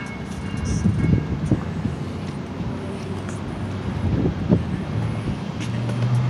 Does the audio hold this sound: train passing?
yes